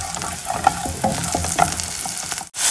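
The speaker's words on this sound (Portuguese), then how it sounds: "Aí eu vou refogar agora aqui." Garlic sautés in a hot pan in a home kitchen, giving a steady close sizzle and crackle with a few sharper pops and stirring scrapes, ending in a brief cut of silence before the frying noise returns.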